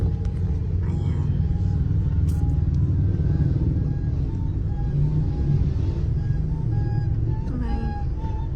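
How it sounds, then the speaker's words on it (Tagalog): Busy street traffic at around five in the afternoon, with cars and motorcycles idling and creeping along in a steady low rumble. A faint horn-like tone recurs now and then, and there is no clear talk. "Traffic na naman guys."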